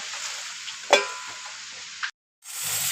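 Fish frying on banana leaf in a pan over low flame makes a steady close sizzle, broken by one sharp knock. The sizzle cuts out briefly, then comes back.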